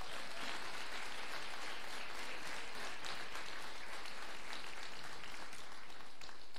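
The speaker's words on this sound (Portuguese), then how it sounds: "Você pode aplaudir ao Senhor?" Church congregation clapping during a Sunday celebration service, a dense, continuous wash of applause from many hands that stays even and sustained throughout.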